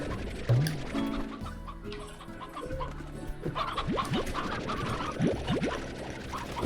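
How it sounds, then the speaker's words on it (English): Chickens in the video game Slime Rancher clucking and squawking in short, irregular bursts over a soft ambient backdrop, several birds heard close together. "I should definitely remove some of those chickens."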